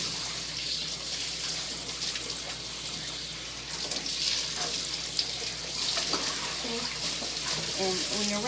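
Water running steadily from a faucet or sprayer while rinsing the face of a curly-coated retriever during grooming, a continuous close hiss and splash with faint talk underneath.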